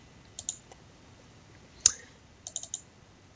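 A few light clicks on a computer keyboard, close and quiet: a pair of taps, one sharper click in the middle, then a quick cluster of three near the end.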